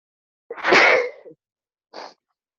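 One loud, close sneeze bursting out in a quiet room during an online clinic discussion, followed by a short sniff or breath after a pause.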